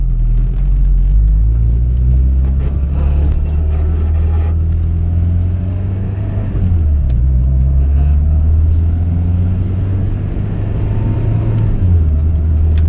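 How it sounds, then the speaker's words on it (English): A turbocharged Honda Civic EG hatchback with a B18C1 engine pulls hard in third gear under full throttle, a loud, deep, steady engine drone rising in pitch, with brief dips where the revs shift. "All right, third gear, flooring it."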